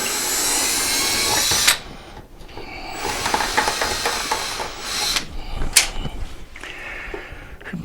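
A power screwdriver removes screws from the shroud of a Pride Go Go Elite Traveller Plus 4-wheel mobility scooter, with bursts of close whirring and hissing motor sound between short pauses and faint clicks.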